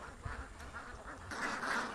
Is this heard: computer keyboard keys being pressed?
no